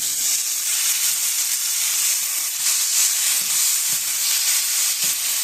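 Sausages frying in a pan, a constant bright sizzle and hiss of fat with a few faint pops, close and steady, with no voices.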